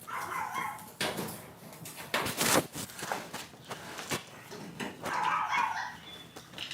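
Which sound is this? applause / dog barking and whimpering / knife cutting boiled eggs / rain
dog barking and whimpering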